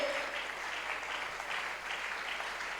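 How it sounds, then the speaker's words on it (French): A church congregation claps together for Jesus in a dense, steady round of applause that sounds slightly distant and fills the whole stretch. "Clap your hand for Jesus."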